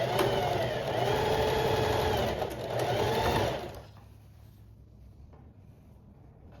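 A sewing machine runs a 1 cm seam on a dress, buzzing loud and steady for about three and a half seconds with a brief dip, then stopping to near quiet with faint clicks.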